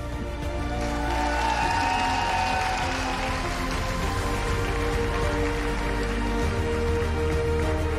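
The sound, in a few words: applause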